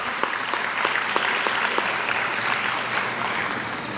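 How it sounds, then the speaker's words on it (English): A keynote audience at a Vision-Aid 2025 event breaks into a sustained round of applause, a dense, even wash of many hands clapping at steady loudness, with a few sharper claps standing out. "Please give them a big round of applause."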